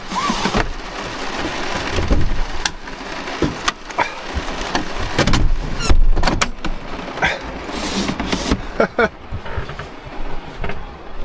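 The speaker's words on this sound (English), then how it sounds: "That's some pretty hard rain." Heavy rain pounds a camper van parked on a remote dirt road during a storm, a dense close roar broken by sharp knocks and thumps inside the van.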